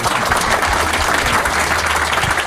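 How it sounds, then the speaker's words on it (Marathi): Sustained applause from a stand-up comedy audience, dense steady clapping filling the room at full volume throughout, with no talking over it. "तर एकदा दोघांसाठी पुन्हा टाळ्या वाजवा"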